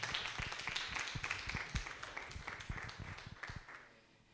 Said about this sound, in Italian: un applauso al signor Nutini